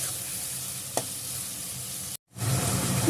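Shrimp sizzle and fry in a pan with a steady broadband hiss, one brief click near the start and a short dropout before the frying resumes loudly.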